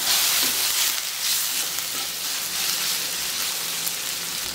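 Ginger garlic paste sizzling in a pan with sautéed onions while cooking channa masala, a steady bright crackling fry at close range, continuous with no talking.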